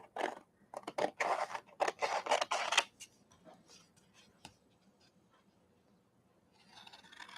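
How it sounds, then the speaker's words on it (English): Paper being cut with scissors for a handmade autumn mini-journal page: a run of crisp, rhythmic snipping strokes up close, then a few softer paper rustles and scrapes, with a brief light rustle near the end. "And I'm cutting with scissors."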